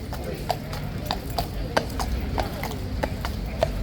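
A King's Guard horse is led away from its box, its hooves clip-clopping in a loose, uneven rhythm of sharp strikes on hard ground while people talk nearby.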